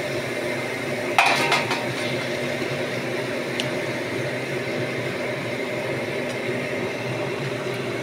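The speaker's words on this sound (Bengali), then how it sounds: "এবার আমি ভাজা মাছগুলো এর মধ্যে দিয়ে দেবো।" Fried pomfret pieces going into spicy masala in a pan: a sharp metallic clink of utensil on pan near the start, then steady low sizzling and faint scraping, close and without speech.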